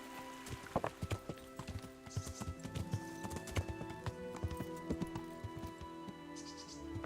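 Horse hooves clip-clop in the video game Kingdom Come: Deliverance, a steady run of fairly faint hoofbeats with an occasional soft whinny and almost no talk.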